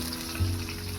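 Chopped onion fries in white oil in a pan, a close, steady sizzle that stays even throughout this short moment with no voices.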